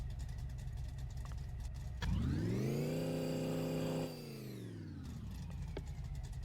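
A supercharged car engine with a weak-sounding starter fires up, rises into a steady high rev for a couple of seconds, then falls back as the pitch drops. A faint mechanical background hum runs throughout.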